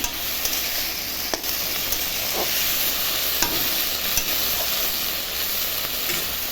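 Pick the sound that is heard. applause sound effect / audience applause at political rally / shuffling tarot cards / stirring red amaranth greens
stirring red amaranth greens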